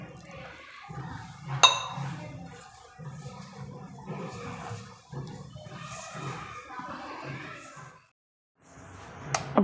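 Water is poured in small amounts into flour for palak paneer paratha dough, with intermittent trickling, splashes and clinks of a vessel, quiet and close, in a home kitchen.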